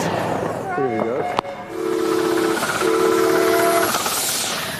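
A miniature steam locomotive, built from scratch as an exact copy of a 1938 engine, runs with a constant hiss of steam and blows two steady whistle blasts, after an earlier wavering tone and a sharp clank.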